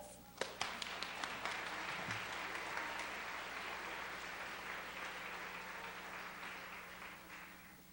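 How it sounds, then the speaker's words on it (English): Elementary school audience applauding second-grade students at a school concert, a few sharp early claps swelling into steady, fairly distant applause that tapers slightly toward the end. "Let's clap for the kids."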